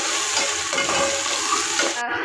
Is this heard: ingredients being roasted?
yes